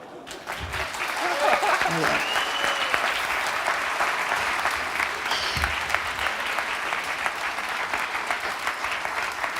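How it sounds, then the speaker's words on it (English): A full audience at a WIRED Next Generation talk applauds, loud dense clapping that holds steady for the whole stretch, with a few faint voices mixed into the crowd. "Can we have another huge round of applause?"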